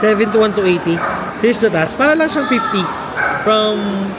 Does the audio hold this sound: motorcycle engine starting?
no